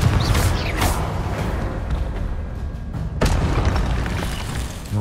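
Confringo blasting-spell explosions in the Hogwarts Legacy video game: loud booming blasts, one early and another sharp burst about three seconds later, over a dense rumbling battle din with no talk.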